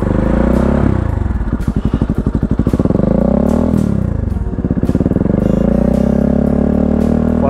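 Kawasaki-Bajaj Rouser NS160 fitted with an Akrapovic exhaust revving up close: loud, continuous engine roar that rises and falls through several rev swells with a throaty, crackling exhaust note.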